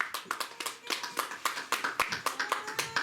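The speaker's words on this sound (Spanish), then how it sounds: "Denle un aplauso al Señor." Church congregation clapping in a quick, steady rhythm, sharp repeated claps heard fairly faint and at a distance, with no talk over them.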